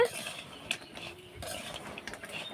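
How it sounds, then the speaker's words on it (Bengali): Pitha being stirred gently in jaggery syrup in a pan, with soft scraping and light clinks of a utensil against the pan, quiet and close. "এখন হালকা করে একটু নাড়া দিলেই গুড়টা ওর সাথে মিশে যাবে"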